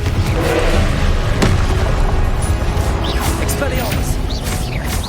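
The Confringo fire spell bursting in Hogwarts Legacy, a heavy booming blast with thuds and crashing debris, loud and dense, with a player talking over the game action.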